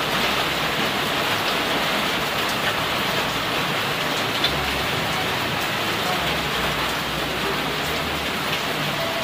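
Steady rain pours down outdoors, a dense unbroken hiss with faint low rumbling underneath, heard at even loudness throughout with no clear speech.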